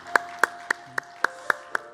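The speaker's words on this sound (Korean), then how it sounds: "서로에게 격려의 박수 하겠습니다." At a Sunday worship service at Incheon Onnuri Church, the congregation claps: seven sharp, evenly spaced claps in a steady rhythm over a faint sustained tone.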